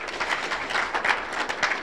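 An audience at the 2023 John Ruffatto Startup Challenge applauds the event's sponsors in a steady, full burst of clapping from a crowd that continues through the moment without any talk.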